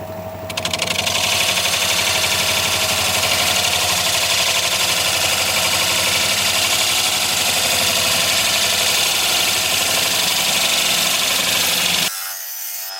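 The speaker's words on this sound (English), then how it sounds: "I'm gonna go sharpen up again." A bench grinder sharpens a wood-turning tool in a woodworking shop, giving a loud, continuous grinding and rasping whine that starts abruptly, holds steady for about eleven seconds and then stops sharply, with no talk.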